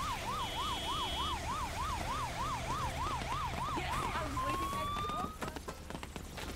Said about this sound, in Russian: Машина скорой помощи.